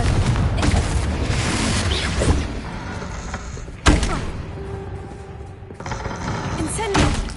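Confringo fire blast spell from Hogwarts Legacy striking with sharp booming impacts, one strongest near the middle, amid crackling game effects and a busy noisy backdrop.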